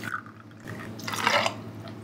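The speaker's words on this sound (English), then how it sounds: "I'm gonna add a nip of the vermouth." Vermouth poured into a cocktail pitcher half full of ice at a bar, a soft close trickle of liquid splashing over ice, rising briefly and then settling.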